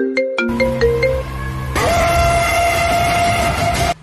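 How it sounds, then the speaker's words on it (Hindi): A phone ringtone plays loudly and close: a quick rising series of electronic tones, then a sustained bright melody that cuts off abruptly. "मर गया, लेकिन उसका फोन आ रहा है भैया"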